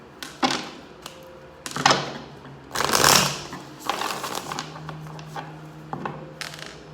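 A deck of cards being shuffled by hand at close range, several crisp riffling bursts and snaps spread over a few seconds, fairly loud with no talking.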